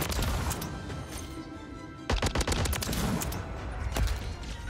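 Rapid automatic gunfire from a Holger 556 rifle in Call of Duty MW3, dense bursts of shots with a sharp crackling volley after a brief pause, loud and close with no talk.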